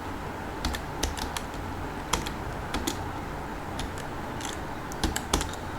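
Keys tapped on a computer keyboard in short irregular bursts of clicks, close and fairly quiet against a steady room hiss, with no voices.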